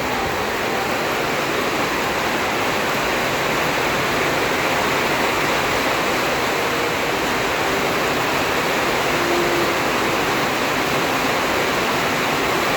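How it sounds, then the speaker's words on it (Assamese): Heavy rain pours down steadily, a dense continuous hiss with no pauses, close and loud throughout. "এনেকুৱাই বৰষুণ দিছে ডাঙৰকৈ।"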